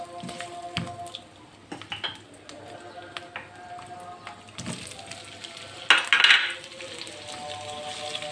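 Ingredients sautéing in a pan for butter chicken, giving faint, patchy crackles and light drips with occasional clinks of a utensil on the pan and a brief brighter sizzle burst partway through, with no talking.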